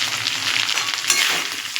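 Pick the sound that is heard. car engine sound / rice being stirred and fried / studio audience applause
rice being stirred and fried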